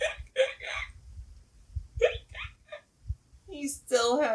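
A reader imitates hiccups with her voice while reading the picture book Skeleton Hiccups aloud, a few sharp vocal hics between spoken lines of the story.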